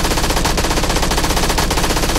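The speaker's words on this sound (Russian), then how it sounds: "Хорошая ППшечка." A PP submachine gun fires in a video game, a loud, rapid, sustained burst of close automatic shots with no pause and no voices.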